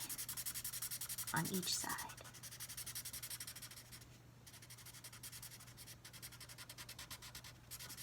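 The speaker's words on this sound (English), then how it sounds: "You can also use your marker to color in this eye." A marker colors on paper during a children's storybook craft, giving brief soft scratchy strokes near the start under quiet background hum, while a voice talks.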